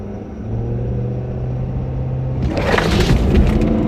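Ford 6.7 Powerstroke diesel truck with added power makes a hard launch, steady engine rumble swelling into a loud, surging roar of acceleration partway through, close and continuous with no talk.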